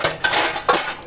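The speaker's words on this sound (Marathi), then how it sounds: "आणि हे सकाळपासूनची भांडी आमची" Pots and dishes piled up since morning being handled, a few close clinks and clatters of metal utensils in quick succession.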